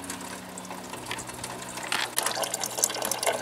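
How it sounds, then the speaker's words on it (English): Coolant drains from a Kia Forte radiator after the cap is opened, a steady trickling and splashing of liquid that grows louder and busier midway through. "when you open the cap, the coolant will start draining faster."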